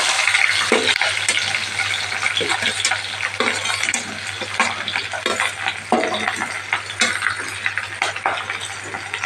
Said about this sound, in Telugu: సరిపడా ఆయిల్ వేసుకొని హీట్ అయిన తర్వాత కొంచెం జీలకర్ర, కొంచెం ఆవాలు, కట్ చేసి ఉంచుకున్న ఆనియన్